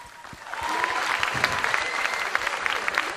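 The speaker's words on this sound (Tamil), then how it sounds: "எனவே எங்கே மீண்டும் கரகோஷம் சாகித்யாவிற்கு." Audience applause at a Shakthi TV Super Star award ceremony, swelling quickly into a sustained round of clapping with sharp individual claps standing out.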